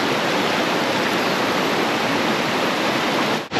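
A river flows at a hiking crossing near the Sungai Chiling waterfall in Kuala Kubu Bharu, a loud, continuous rushing of water that cuts off abruptly at the end.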